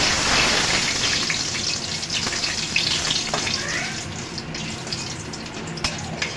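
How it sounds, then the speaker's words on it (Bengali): Dried red chillies and torn bay leaves, with cumin, tempered in hot oil, crackling and sizzling steadily and loudly close up, a dense hiss with small pops throughout. "আমি কটা শুকনো লঙ্কা আর তেজপাতা ছিঁড়ে নিয়েছি, তা ফোড়ন দিয়ে দেবো।"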